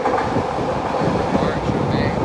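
A Vancouver SkyTrain rumbles along an elevated track overhead on a rainy day, a loud steady roar with a clattering texture that fills the whole moment.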